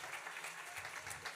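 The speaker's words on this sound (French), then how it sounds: "Un bel applaudissement encore, s'il vous plaît." Steady, dense applause from an audience at a school prize-giving ceremony fills the whole moment without a break. No single voice stands out.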